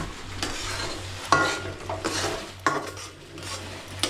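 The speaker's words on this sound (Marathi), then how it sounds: "आता ह्याला चांगला ढवळून घ्यायचा" A spoon stirs turmeric and spices in a cooking pot for crab masala, a continuous scraping and soft sizzle with a couple of sharper metallic knocks, close and without talk.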